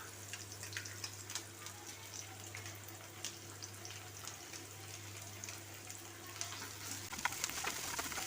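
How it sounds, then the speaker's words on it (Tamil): Onion with ginger garlic paste sautéing in a pan, a faint, steady crackling sizzle with scattered sharper pops, heard close but quiet with a low hum underneath. "இப்போ இஞ்சி பூண்டு பேஸ்ட் சேர்த்து நல்லா வதக்கியாச்சு"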